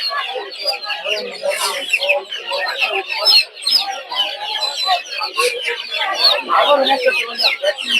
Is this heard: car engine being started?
no